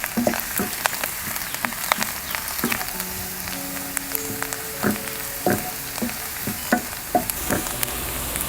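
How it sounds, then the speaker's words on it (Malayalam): Ingredients for ginger chammanthi frying in a pan, giving a dense continuous sizzle with scattered scraping stirs and small pops throughout. "നന്നായിട്ടൊന്ന് ഫ്രൈ ചെയ്തെടുക്കാം"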